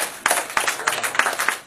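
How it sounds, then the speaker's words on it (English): An audience clapping in a quick, regular rhythm, with bright bursts of claps about every third of a second, close and moderately loud, with no talking. "Please, let's give her a clap."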